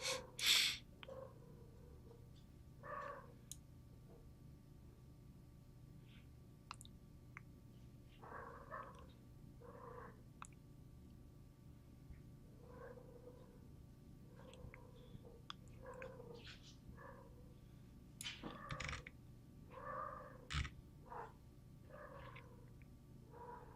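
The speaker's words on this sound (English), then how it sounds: "This cat's going nuts." A cat gives repeated short, moderate meows and yowls at irregular intervals over a low steady hum, with purring and a few sharp louder bursts.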